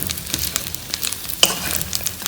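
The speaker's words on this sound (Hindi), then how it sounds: "इसको अच्छी तरह से टॉस करें।" Chicken and cashews crackle and sizzle in a hot pan as they are tossed, with steady frying hiss broken by scraping stir strokes and a sharper clatter midway.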